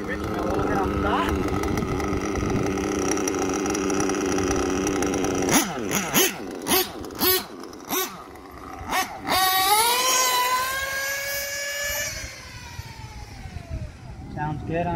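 A 5th-scale Associated truggy's gas RC engine runs close by, idling with a rough buzz, then blipping in sharp bursts before rising into a loud, screaming rev that winds down.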